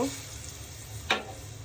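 Broth is poured into a sizzling prawn, potato and pointed gourd curry, a low steady hiss broken by one sharp splash-like burst partway through, with no talk.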